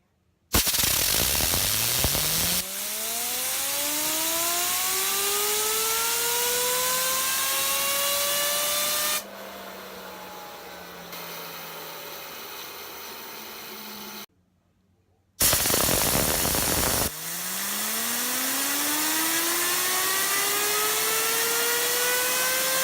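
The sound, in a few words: Axis Micro fidget spinner spinning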